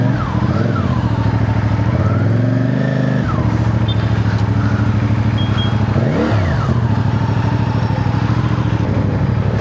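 A CFMOTO CL-C motorcycle engine runs loud and continuous at close range, its pitch rising and falling as it revs, with no talk over it.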